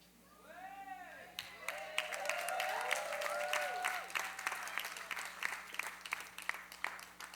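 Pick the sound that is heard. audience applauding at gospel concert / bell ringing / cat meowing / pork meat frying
audience applauding at gospel concert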